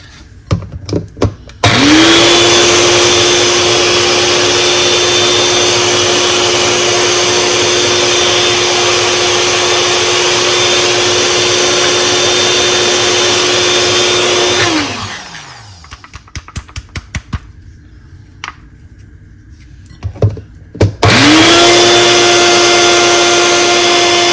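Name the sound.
blender running to grind pistachio coffee drink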